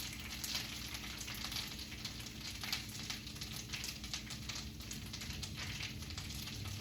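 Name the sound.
chorizo meat frying and sizzling in pan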